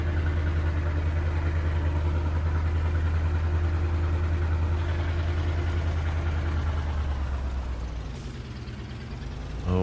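A small tractor engine in Farming Simulator 22 idles with a steady low mechanical drone, holding constant before dipping briefly near the end, with no speech over it.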